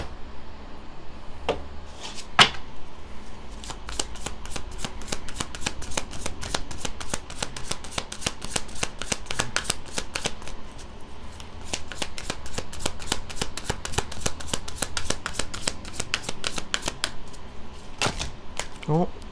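Oracle reading cards are shuffled in a long, steady run of crisp riffling snaps and slides, close and fairly loud, with brief pauses and a few sharper card slaps near the start and end.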